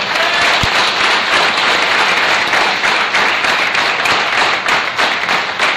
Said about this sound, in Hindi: अंदर घुस के ठोको ताली जोरदार